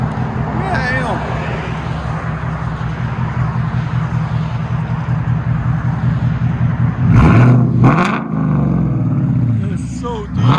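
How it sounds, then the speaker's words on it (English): A Ford Mustang GT 5.0 V8 with an aftermarket exhaust rumbles at a deep, steady idle close by, then blips into a few sharp, loud revs near the end, with people talking over the engine. "You can hear the lion coming out of that car. It was a Mustang, now it's a purebred Mustang."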